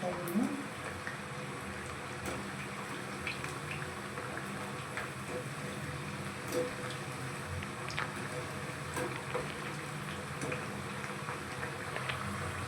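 Aloo kabab deep frying in hot oil makes a soft, steady bubbling sizzle with tiny crackles, low and continuous through the whole stretch.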